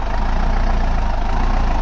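A Deutz-Fahr Agrolux 80 HP tractor engine runs steadily at close range, a constant loud low rumble with a mid-range drone and no breaks.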